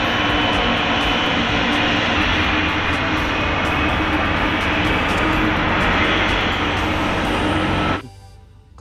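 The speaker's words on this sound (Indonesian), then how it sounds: "dan yang ini ada pesawat" Loud, continuous whirring drone of a toy airplane's engine sound held at a steady pitch, cutting off abruptly near the end.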